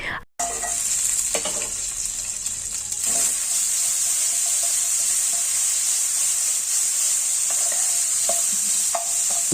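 Potato curry fries in a pan with five-spice and green chilies, giving a loud, continuous sizzle close by, broken now and then by the scrape of stirring.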